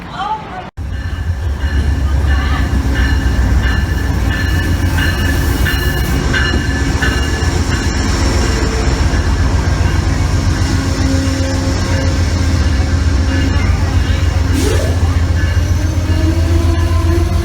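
A train bound for New York rumbles steadily along the rails, with a constant low roar, faint rhythmic clatter and a brief high wheel squeal near the end.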